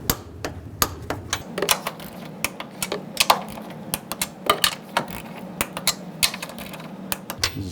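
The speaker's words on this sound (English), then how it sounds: "Now torque these nuts to 33 foot-pounds." A torque wrench and socket tighten the front strut top nuts on a 2007-11 Honda CR-V, producing sharp, close ratcheting clicks that come in quick irregular runs against a quiet background.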